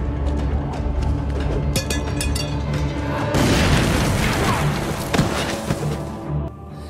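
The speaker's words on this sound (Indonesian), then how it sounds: "Suara ledakan terdengar oleh Elsa yang baru saja tiba di rumah Imgar." A loud explosion from a war film about Nazi soldiers bursts out midway, following a stretch of rumbling, thumping mechanical noise and trailing into scattered debris-like crackles before fading.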